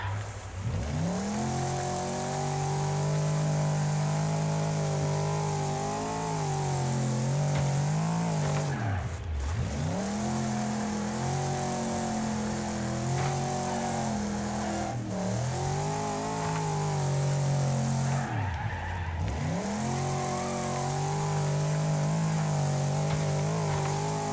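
Race cars in the video game Wreckfest roar steadily for the whole stretch, engines rising through the revs and dropping sharply twice with gear changes or braking, with tire squeal mixed in. The sound is loud and continuous and nobody speaks.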